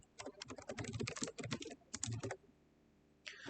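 A docker command is typed on a computer keyboard: a quick close run of light key clicks in two bursts, then a short pause and a final keystroke, quiet and with no talk.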